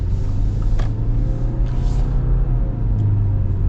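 A 2025 Subaru Forester Premium hybrid with a flat four-cylinder engine accelerates, giving a steady, smooth low rumble of engine and road noise heard from inside the cabin, with no talking.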